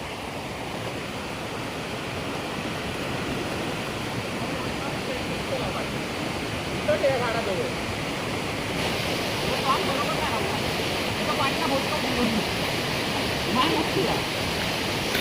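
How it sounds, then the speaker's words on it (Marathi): A waterfall roars continuously in the background, a broad rushing wash of water, with people talking faintly now and then over it. "धबधबा आहे खाली"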